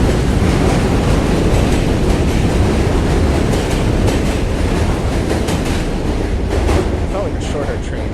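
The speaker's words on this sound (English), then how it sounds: "It felt like a shorter train than usual." A train rolls steadily past at close range with continuous loud rumbling and a faint clickety-clack of wheels on track throughout.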